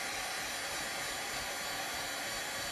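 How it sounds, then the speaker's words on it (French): A heat gun running on low power to warm the wooden parts of a broken chair, a steady airy blowing hiss that holds even and unbroken throughout, close by and alone. "décapeur thermique à basse puissance, parce qu'il ne faut surtout pas brûler les bois, seulement les chauffer"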